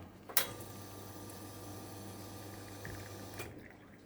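An Ottima Futurmat coffee machine group head dispenses water in a steady rushing flow over a low pump hum. A click marks the start, and the flow cuts off with another click near the end.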